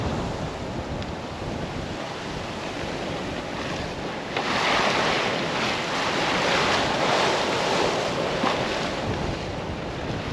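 Strong 25-knot following wind and waves on a sailboat passing a narrow southern entrance toward Stewart Island, a loud continuous roar of wind buffeting the microphone over rushing surf that swells louder midway, with no voices.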